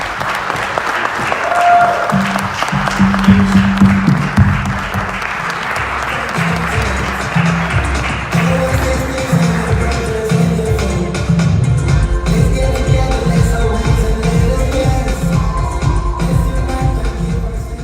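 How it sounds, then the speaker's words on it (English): Sustained crowd applause at a town hall meeting in Minneapolis runs throughout, mixed with music playing underneath, the clapping staying loud and dense the whole way. "Please help me welcome, with a great applause, Omoyele Sowore."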